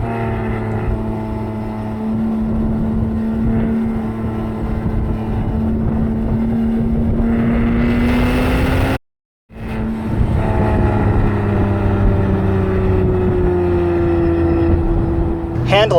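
A Porsche Cayman S of the 987 generation revs steadily upward toward its 7,000 RPM red line, the engine tone climbing loud and close over wind noise, broken by one brief gear-change gap before pulling up again.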